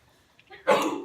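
A single sudden, breathy sneeze bursting out close by after a brief quiet intake.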